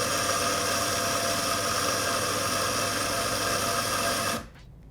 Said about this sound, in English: So should we grind out some coffee?